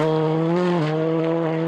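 A rally car pulls away after a roadside tyre change on a Czech tarmac rally stage, its engine droning loud and steady close by with a brief dip in pitch as it accelerates.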